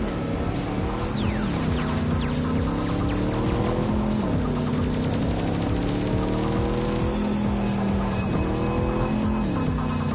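Damaged car in Cyberpunk 2077 pulling away with tires squealing, a loud revving engine rising and shifting in pitch, with sharp screeching skids layered over steady roaring motor noise.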